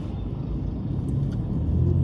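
A car engine rumbles steadily as the revs dip and rise again through a gear change from second to fourth, heard from inside the vehicle.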